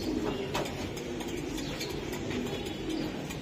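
Racing pigeons in a loft coo softly and repeatedly, low rolling calls over a steady background hum, with no talking.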